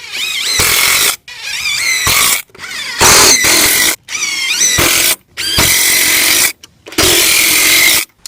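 Power drill driving structural screws into deck joists against a ledger, loud close whining bursts of about a second each, repeated six or seven times with short pauses between runs.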